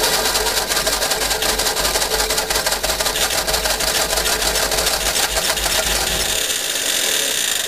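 Engine of a 1952 Fordson E83W pickup truck, freed after sitting seized since 1982, running at light throttle, with a loud, steady, rapid ticking chatter that continues throughout before easing slightly near the end.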